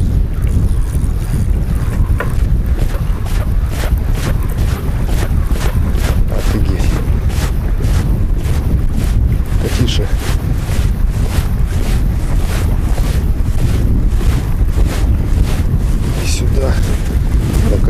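Loud, gusting wind roars against the microphone continuously while fishing for crucian carp, with choppy water and boat noise beneath it.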